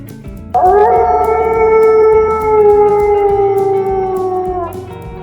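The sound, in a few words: wolf howling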